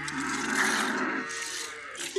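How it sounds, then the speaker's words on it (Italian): Cattle mooing during milking, a drawn-out bovine low lasting the whole moment, close and fairly loud against a steady barn background. "mo se stanno a mungere vacche, stanno a mungere"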